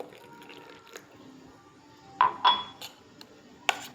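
A spoon stirs pomegranate, banana, date and milk juice in a glass, giving a few sharp, fairly close clinks against the glass over a quiet background.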